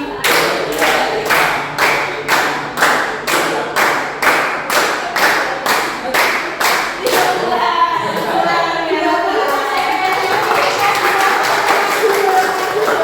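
A group claps together in a counted, even rhythm of about fourteen sharp, loud claps, then the clapping stops and voices and movement take over.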